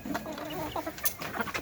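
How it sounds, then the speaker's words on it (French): Roosters squabbling in a farmyard during egg collection, a steady run of close, agitated clucks and squawks with a few sharper cries breaking out, no talking. "il y a un coq qui se bat avec un autre"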